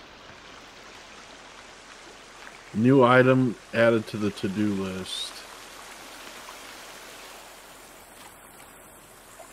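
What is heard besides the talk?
waterfall in a cave, video game The Forest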